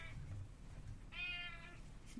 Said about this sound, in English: my cat's talking